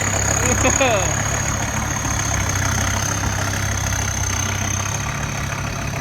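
A truck engine idles steadily with the accelerator untouched, a constant low rumble with a faint high whine, and a voice briefly talks over it near the start.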